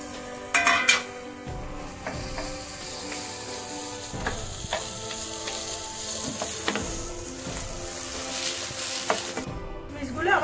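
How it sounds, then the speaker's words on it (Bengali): Raisins fry in hot ghee in a pan for carrot Kabuli pulao, a steady sizzle punctuated by clinks and scrapes of a spoon against the pan, close up with no talking. "এবার এর মধ্যে কিশমিশটা দিয়ে একটু ভেজে নেব।"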